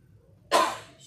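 A single sharp, close cough from a person, sudden and loud in an otherwise quiet room, fading over about half a second.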